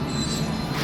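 Long roller coaster trains at Phantasialand rumble along the track with a steady metallic roar and wheel squeal, close and continuous.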